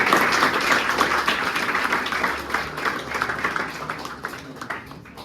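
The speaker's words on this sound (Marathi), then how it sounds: "सगळ्यांनी टाळ्या." A classroom audience claps together, a dense, steady wash of applause that stays fairly loud throughout and thins slightly toward the end, with no one speaking over it.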